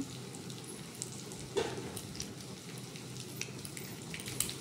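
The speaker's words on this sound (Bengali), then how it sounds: "সুন্দর করে ভেজে নিচ্ছি আমি সামান্য পরিমাণে তেল দিয়ে দিলাম" Potato chops fry in a little oil in a pan, a soft continuous sizzle with small pops and crackles, fairly quiet and close, with no talking.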